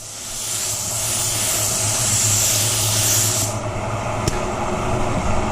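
A spray gun lays down a first light base coat of paint in a steady airy hiss lasting a few seconds, then cuts off abruptly, leaving a low background hum and a sharp click.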